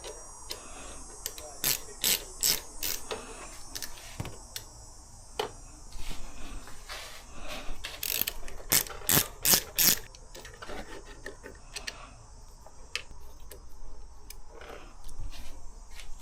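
Rapid ratcheting clicks from a 13 mm ratchet wrench while a handbrake is fitted to a Yamaha R3 motorcycle, coming in bursts of sharp, close ticks with pauses between strokes.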